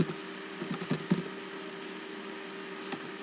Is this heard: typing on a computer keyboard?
yes